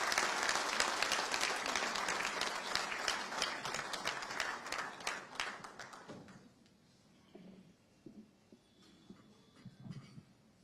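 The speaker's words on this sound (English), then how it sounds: "A round of applause." A round of applause for the Chief Minister at a FICCI National Executive Committee meeting in Ahmedabad, dense clapping from a crowd that thins out and fades to scattered claps and quiet room noise.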